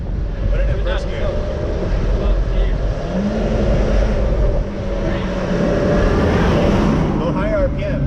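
Subaru WRX engine revving and pulling away under hard throttle, a steady loud drone with rising and falling pitch, mixed with wind rumble and voices talking over it.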